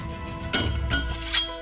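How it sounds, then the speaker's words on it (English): A blacksmith strikes an anvil in the video game Siralim Ultimate: three evenly spaced metallic hammer blows ring out over faint, steady background music, with no voices. "Saban gathers your resources and begins hammering violently at the anvil"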